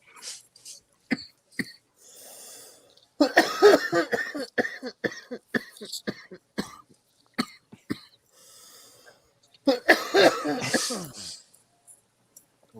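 Several short, sharp coughs come in bursts over the span, close to the listener, separated by brief pauses and mixed with breathy throat sounds.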